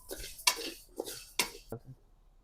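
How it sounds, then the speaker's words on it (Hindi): A utensil stirs pearl millet as it roasts in a pan, making several distinct scraping clanks against the metal in an irregular rhythm, fairly close and quiet. "बाजरा भूनते वक्त जरा ध्यान रखना, आप लोग भी बाजरा भूनते वक्त ध्यान रखना"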